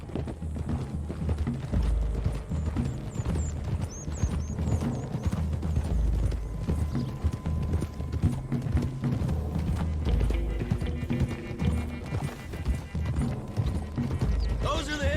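Horses gallop in the Red Dead Redemption II western game, steady clip-clop hoofbeats running throughout, with an occasional whinny, under a rider's talk and background music.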